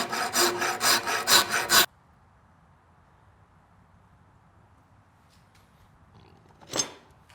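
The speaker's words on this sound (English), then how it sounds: "what I'm going to do is rasp this flat" A rasp scrapes a wooden bow handle flat in about six quick, loud, rhythmic strokes close up, followed by near silence and one final short rasping stroke.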